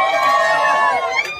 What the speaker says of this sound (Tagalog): Wala rin po ba ang hiyawan dyan?